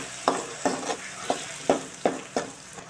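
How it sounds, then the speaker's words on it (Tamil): Ground tomato paste going into a hot frying pan for brinjal tamarind kuzhambu, giving a close sizzle broken by six or seven regular scraping stirs about every third of a second, with no voices. "அரைச்சி வச்ச தக்காளி சேர்த்துடலாம்."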